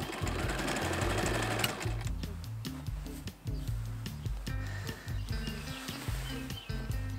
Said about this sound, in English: sew up the entire edge of the facing from the bottom edge of the waist tie to the other side in the same location